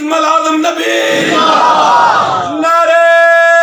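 A large congregation at an annual Mawlid gathering in a mosque roars religious slogans in unison in response to a leader, a loud sustained crowd shout following and followed by an amplified chanting voice.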